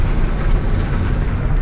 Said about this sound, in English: the exhaust sounds so weird on this thing